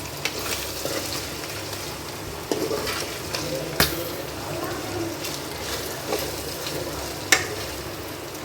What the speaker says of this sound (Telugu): మధ్య మధ్యలో కలుపుకుంటూ ఇలా బాగా ఫ్రై చేసుకోవాలి